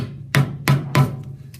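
Three evenly spaced, loud, close hammer blows strike a plastic transfemoral prosthetic cast, each a sharp thud with a brief ring-out, followed by a fainter fourth tap.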